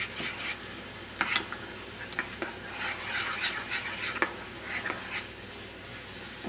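Pizzelle batter being folded with flour by hand, a soft continuous scraping and rubbing of a utensil through thick dough in a bowl, with occasional sharper taps against the bowl, close and fairly quiet.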